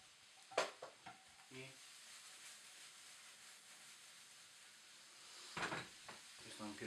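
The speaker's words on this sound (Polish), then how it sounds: "do tak podsmażonej cebuli dodajemy pieczarki" Quiet sizzling of onions and mushrooms frying in a pan, with occasional scraping and clinks of a utensil stirring, close by, with a few soft sounds at the edges.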